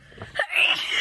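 A woman lets out a single sneeze, a quick breathy intake and then a sharp, bright burst that trails off, close and fairly loud with no talking.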